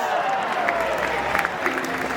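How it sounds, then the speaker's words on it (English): Audience clapping at a Disney Animal Kingdom bird show, Feathered Friends in Flight, moderate and close, mixed with a sustained musical tone and crowd murmur. "How about a round of applause for our Rocketeer, everyone?"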